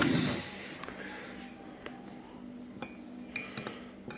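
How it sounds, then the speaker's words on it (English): A spoon stirs hop tea in a cup or pot, giving a few faint, sparse clinks against the vessel after a brief louder rustle at the start, quiet and close. "I might give them a stir with a spoon."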